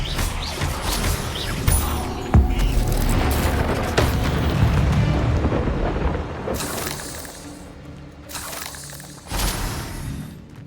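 Incendio fire spells are cast in Hogwarts Legacy, producing rumbling, roaring bursts of flame. Several surges swell and fade over a noisy game soundscape.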